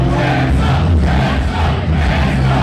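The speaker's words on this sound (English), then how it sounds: "there's a huge crowd chanting Hansen's name" A huge wrestling crowd at an indoor 3XW event chants a wrestler's name, a loud, dense, continuous roar of many voices filling the hall without pause.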